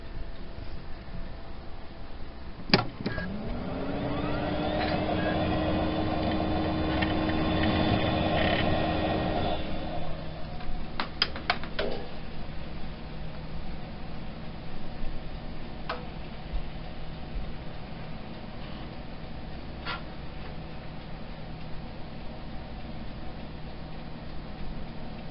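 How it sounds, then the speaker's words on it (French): A Windows 95 computer powering on: a sharp click, then a fan hum that swells and drones for several seconds, followed by scattered ticks and drive clicks over a low, steady hum. "Je vais démarrer l'ordinateur."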